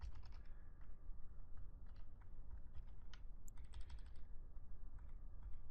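Steady typing on a computer keyboard while writing PL/SQL code, with rapid irregular key clicks and occasional heavier keystrokes, close and fairly quiet over a low hum, no voices.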